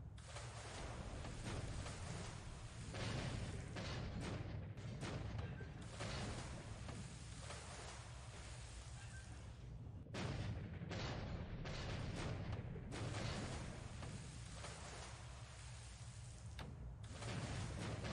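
Naval bombardment in the War in the Pacific strategy game during a second invasion of Iwo Jima: continuous heavy rumbling booms and blasts that swell and fade in waves over a steady roar, with no voices.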